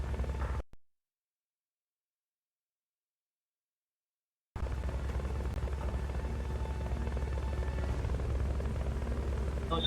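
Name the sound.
helicopter in the video game Metal Gear Solid: Peace Walker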